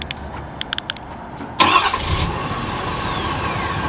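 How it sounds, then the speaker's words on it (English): A 2020 Ford F-350 Tremor diesel fires up after a few short clicks, the engine catching with a loud burst and then settling into a steady, rumbling idle from the exhaust. "let's roll the exhaust clip."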